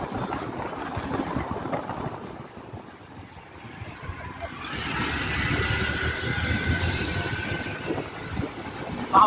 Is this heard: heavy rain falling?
no